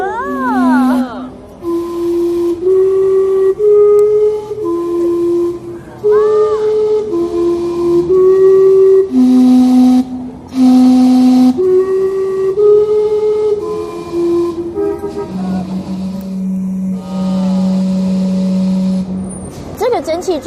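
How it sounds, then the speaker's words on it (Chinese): The Gastown steam clock in Vancouver whistles a slow chime melody of sustained steam-whistle tones, note after note, ending on a long low held tone, over background street noise. "这个蒸汽钟这么有名"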